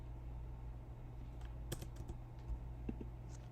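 Quiet, scattered keystrokes on a computer keyboard, a few soft clicks heard faintly over a low steady hum.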